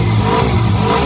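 A Hero Xtreme 125R motorcycle from 2026 revs its engine close by, a loud, steady, buzzing mid-pitched roar held for about a second with no voices.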